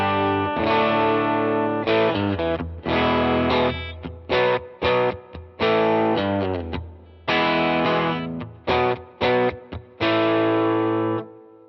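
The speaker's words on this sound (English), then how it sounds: "We're gonna put on plate reverb and go straight to that bridge." Electric guitar with P90 pickups and a gritty, overdriven growl playing chords and riffs in bursts separated by short pauses, with a spacious plate reverb tail.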